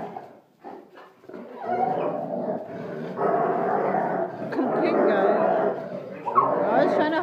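Dogs growl, yip and whine in a close scuffle, with rough playful snarling that carries on for several seconds.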